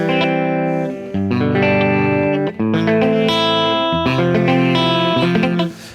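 Loud distorted electric guitar strums sloppily through four chords, ringing thick and fuzzy with no one speaking.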